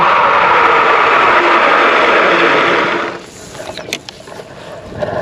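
A Rattan Sequoia e-bike brakes hard from 30 mph: steady loud wind and rolling drive noise give way after about three seconds to quieter mechanical scraping, clicks and brake squeal as it slows.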